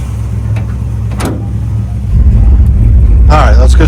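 A 1968 Camaro SS big block V8 idles with a deep rumble, then swells louder and rougher as it pulls away, close by, with people talking over it.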